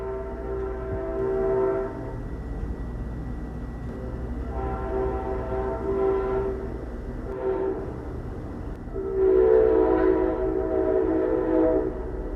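A train horn sounds in long sustained blasts with a steady rumble of a passing train underneath, swelling louder toward the end; no talking.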